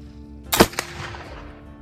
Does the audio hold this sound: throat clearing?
no